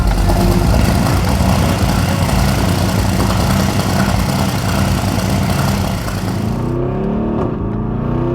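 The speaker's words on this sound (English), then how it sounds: "it definitely sounds like an AMG GT3" Engine of a widebody Mercedes AMG GT runs steady and loud at close range, a dense rumble held for several seconds before easing off toward a lower idle near the end.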